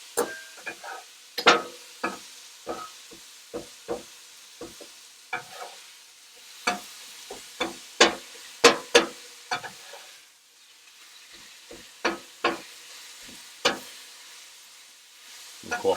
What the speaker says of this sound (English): And then we'll keep chopping.